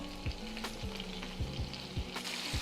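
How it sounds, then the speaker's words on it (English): Diced shallots, capers and garlic sizzle in butter in a pan, making a soft, even frying hiss. Light scraping stir strokes recur at a steady pace, with no talking. "Allow that butter to cook those shallots."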